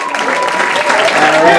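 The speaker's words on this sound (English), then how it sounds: "Keep it clapping for Mr. Evan Berke, everybody!" Applause from a comedy club audience at The Stand NYC, a dense steady wash of clapping holding at a constant level for the whole moment, with faint crowd noise mixed in.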